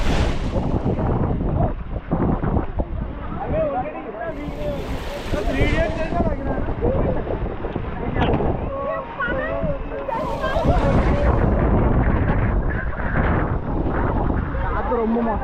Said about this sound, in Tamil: காற்று ரொம்ப மோசமாயிடுச்சு.